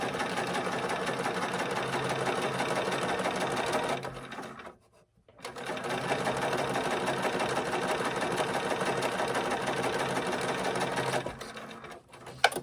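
Sewing machine stitching a seam on a bunny bag, a close, steady mechanical whir running continuously with a brief pause near the middle and another near the end.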